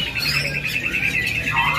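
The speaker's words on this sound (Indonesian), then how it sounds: "Ada burung betina." A young female bird in a bird-selling kiosk squawks in a shrill, continuous run of harsh, close calls with no talk.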